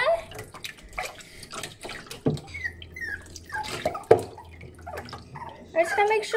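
Water splashing and dripping in a bathtub as soap is rinsed off a puppy during its first bath, coming in irregular bursts and trickles close by, with a person talking softly over it.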